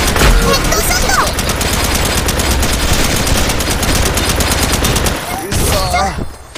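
Rapid automatic gunfire rattles continuously in the online shooter game Paperman, loud dense bursts of shots with brief voices from players speaking over and after the shooting.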